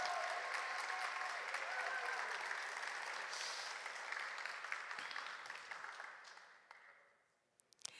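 Audience at a student film festival awards ceremony applauds in a full, sustained burst that holds steady, then thins and fades out, ending with a few last isolated claps.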